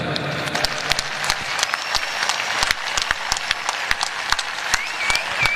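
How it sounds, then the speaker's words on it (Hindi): An audience honouring a war veteran named Yadav breaks into sustained applause, with dense overlapping claps and sharp individual hand smacks standing out throughout. "उसके लिए जितनी तालियां बजाएं बजा लें।"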